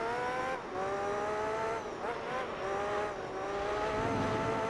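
Race car engine in Gran Turismo 3: A-Spec, a steady high-pitched whine climbing and dropping through the gears as the car is pushed through turns, loud and continuous with no talk over it.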